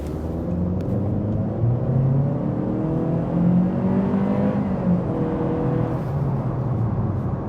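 An Acura Integra with a CVT accelerates from inside the car, a loud, steady engine drone whose pitch rises and shifts smoothly as speed builds, with no speech.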